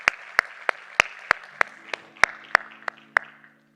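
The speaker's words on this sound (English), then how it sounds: "a round of applause for Maqasa and FIS Global" Applause rings out at a financial capital markets forum after a memorandum of understanding signing, a sparse, crisp run of about a dozen individual claps spaced evenly and fading out near the end, with no talk over it.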